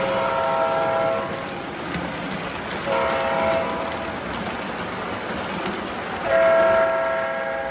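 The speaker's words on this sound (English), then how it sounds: "introducing my O-gauge 4x6 foot tiny railroad" An O gauge three-rail model train runs on a small 4x6 foot layout, its wheels rumbling continuously while a horn sounds in three separate blasts, the last one loudest.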